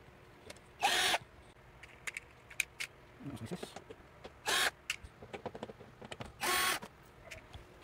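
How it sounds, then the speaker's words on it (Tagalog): An electric screwdriver backs out the screws around the panel of an LG 43-inch edge-lit LED TV. Three short, sharp whirring bursts are separated by quieter handling clicks and taps, close up. "ating tatanggalin lahat ng mga tornilyo na nakapalibot sa kanya"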